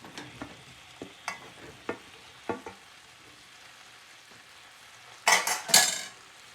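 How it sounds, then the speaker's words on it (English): Potatoes stirred into a mushy tomato masala in a pot, a spoon scraping in several soft, evenly spaced strokes, then a louder burst of wet clatter and sizzle near the end. "Give it a stir."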